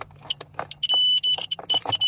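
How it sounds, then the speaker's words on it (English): Digital multimeter set to continuity mode beeping while testing a fuse in a 1989 Jeep XJ blower motor circuit; short shrill tones start and stop among clicks and handling noise. "We're gonna put it into what is called beep mode."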